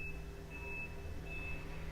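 A garbage truck's reversing alarm beeps outside in a steady, thin tone that repeats under a low rumble of engine and traffic.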